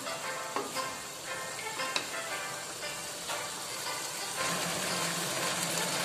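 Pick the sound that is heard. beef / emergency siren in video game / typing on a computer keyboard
beef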